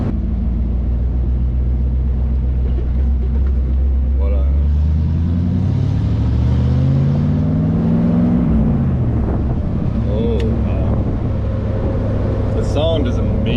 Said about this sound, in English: Sound is amazing. Like, I just want to accelerate all the time.